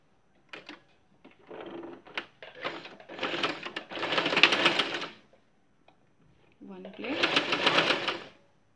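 A sewing machine stitches the side pleats of a homemade cloth face mask, running in several close bursts of varying length with short pauses between them.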